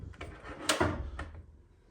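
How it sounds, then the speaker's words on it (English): An Asko washing machine door being pushed shut and locked, giving a pair of close, quiet clicks and then a firmer latching thunk that fades out, with no voices. "make sure the door is locked"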